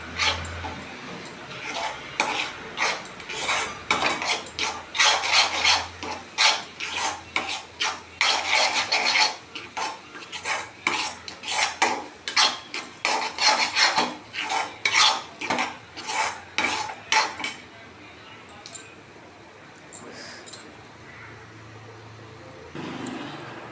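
A spoon scrapes and clatters steadily against a pan while onion chutney is stirred, repeated rhythmic strokes for most of the stretch before the clinking stops and things fall quieter.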